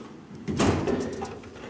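A drawer of a Homak H2Pro 72-inch tool box slides open, a short smooth metallic rolling rush that swells and fades within about a second, close and fairly loud with no talk.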